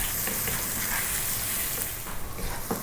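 Cooked spaghetti stir-fries in a hot pan with a steady, dense sizzle and crackle, close and continuous, with faint scraping as it is moved around.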